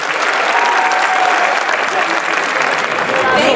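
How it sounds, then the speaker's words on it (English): Loud, dense audience applause for Dr. Logan and the S.O.U.L Creations performers at an MLK celebration, steady and sustained throughout with crowd noise and a few voices mixed in. "Can we please give them another round of applause?"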